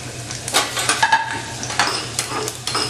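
Whole fennel, cumin, fenugreek, coriander seeds and dried red chillies dry roasting in a pan, with light crackling and scraping stirs repeating every half second or so, close and fairly loud, with no talk.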